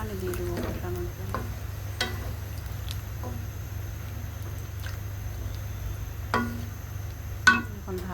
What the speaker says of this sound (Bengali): এখন একটু পানি দিয়ে দেবো কষানোর জন্য।